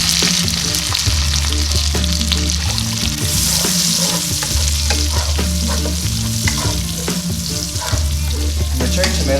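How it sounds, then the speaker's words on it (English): Cherry tomatoes drop into a frying pan of garlic already sizzling in oil, giving a loud, steady sizzle and fry with stirring and scraping throughout, no voices. "it looks like I'm gonna add the tomatoes in now"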